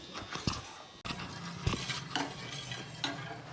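A spoon stirs custard powder into a little milk with light clinks and scraping against the dish, close and soft, with faint background hiss.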